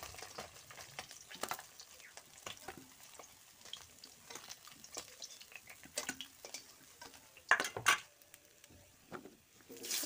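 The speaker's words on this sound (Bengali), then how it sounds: "কড়াইতে তেল গরম করে মাছগুলোকে উল্টে পাল্টে ভেজে তুলে নেব" Fish fried in hot oil in a wok, a steady soft crackle and sizzle running throughout with scattered sharper pops and spatters, a louder burst near the end.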